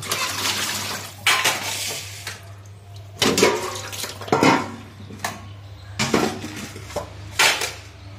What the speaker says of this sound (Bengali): বাসনগুলো এখন সব মেজে নেব।